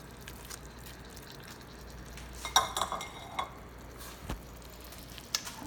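A clunky spatula stirs beef and broccoli stir fry in a pan with faint sizzling. Occasional soft scrapes and knocks against the pan come through, close but quiet.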